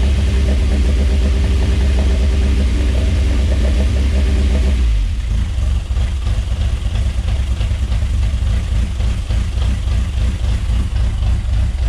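A project car's engine idles steadily nearby at a little under 1,000 RPM after its first start, a low continuous rumble after an initial louder, higher running stretch drops down to a calm idle.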